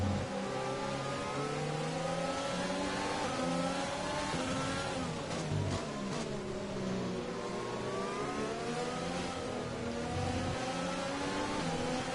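A Formula 1 car engine from the F1 2020 racing game screams at high revs, holding a steady loud whine with gear-shift dips and rises throughout, no talking over it.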